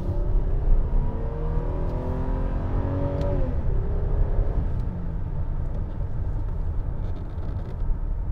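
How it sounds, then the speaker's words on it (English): A 2004 Lexus GS300 with an inline six and about 150,000 miles accelerates, its engine note rising smoothly in pitch over several seconds before settling into a steady, loud cabin rumble with no talking. "That was a silky smooth acceleration run right there."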